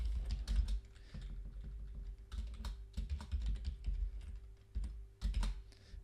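Fast typing on a computer keyboard at a desk, close and crisp, keys clicking in uneven bursts with brief pauses.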